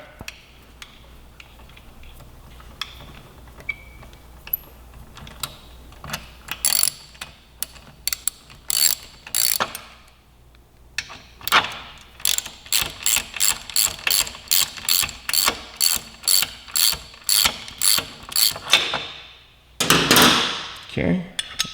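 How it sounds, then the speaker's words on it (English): Ratchet working bolts loose on the rearsets of a 2018 Suzuki GSX-R1000, close and loud, in runs of quick rhythmic clicks separated by pauses, with a faint voice in the background. "we're going to use a ratchet, make our lives a little easier"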